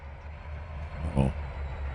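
A train rolling along in Trainz 2022, a steady low rumble that swells briefly in the middle with a faint high squeal.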